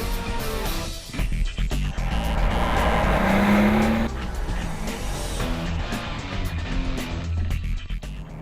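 A Mercedes SL65 sports car with 612 horsepower accelerates hard. The engine roar swells loud and rises in pitch, peaks, then settles into a continuous, rumbling drive.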